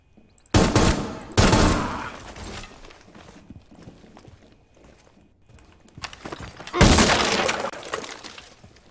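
Bursts of gunfire tearing through soft walls in Rainbow Six Siege, with splintering breakage; two close loud volleys, a quieter stretch, then another heavy burst.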